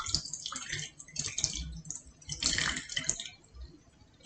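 Water pouring and dripping from a broken mini coconut, irregular splashing and trickling bursts with short pauses, close and fairly quiet.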